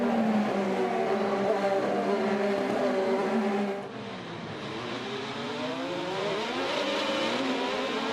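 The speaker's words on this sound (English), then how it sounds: "listen to the wheel spin of his cars coming off the corner" IndyCar race cars with roughly 750 horsepower engines spin their wheels accelerating out of the Long Beach hairpin, a loud sustained high-revving engine roar that dips briefly mid-pass and then climbs again as the next car powers away.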